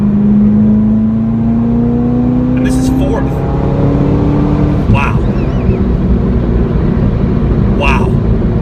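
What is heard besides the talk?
Chevrolet Corvette ZR1 engine accelerating hard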